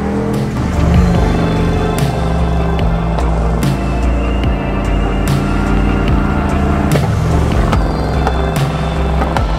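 A 4x4 VW bus camper rolls along in four-wheel drive on the way to a coastal beach, its engine droning loudly and steadily with bumps and rattles throughout.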